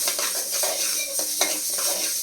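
Mustard seeds roast in a pan for mango pickle, with a constant crackling sizzle and repeated scraping stirs and light metallic clinks of a spoon against the pan, close and continuous.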